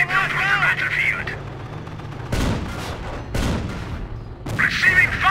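Several sharp bursts of gunfire in the World War II strategy game Company of Heroes erupt one after another, with shouted voices before and after the shots.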